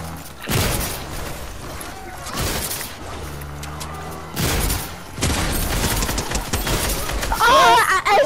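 Game gunfire crackles in several loud bursts, some sharp volleys and one heavier boom, spread across the moment with voices and game sounds mixed in.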